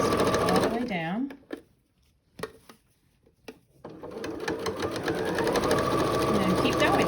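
Sewing machine stitching along the edge of a pleated fabric face mask, rapid mechanical whirring and clatter in bursts separated by a quiet pause, with a voice talking over it.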